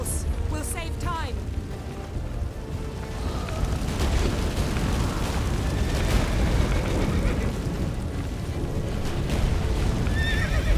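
A horse whinnies near the start in The Witcher 3 video game, followed by a dense, loud rumbling game soundscape that continues without a break.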